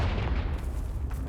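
A Confringo blasting spell explodes in the Hogwarts Legacy video game, a dense, loud booming roar with heavy low rumble filling the whole short moment.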